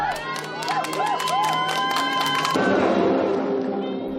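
Crowd at a motor racing circuit cheers and shouts as a returning race car driver comes in, a dense, steady roar of voices with whistles and whoops, close and loud throughout.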